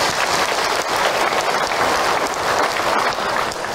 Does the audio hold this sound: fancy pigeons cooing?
no